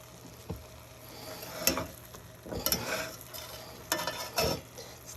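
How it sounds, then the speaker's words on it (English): Ground veal browns in a pan for a northern Italian tortellini filling from Modena, giving a steady low sizzle broken by several louder scraping stirs and clinks of a utensil against the pan. "We're going to start browning the veal."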